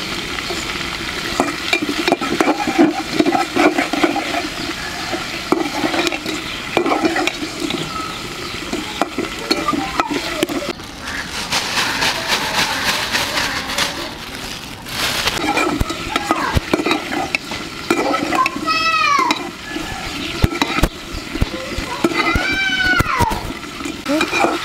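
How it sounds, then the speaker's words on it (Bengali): Ingredients fry in a little oil in a traditional Bengali village kitchen, giving a steady loud sizzle with stirring and scraping throughout, and a voice heard faintly at times. "এগুলা দিয়ে তেলের মধ্যে অল্প একটু ভেজে নিচ্ছি"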